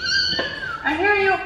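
A cat meows plaintively up close, two drawn-out, wavering cries one after the other with no talk over them.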